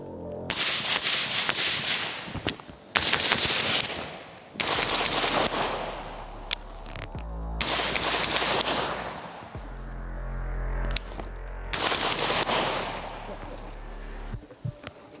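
A suppressed AR-15 rifle fires 5.56 rounds in several quick strings of sharp cracks separated by short pauses, near and moderately loud, with low hum and people talking in between.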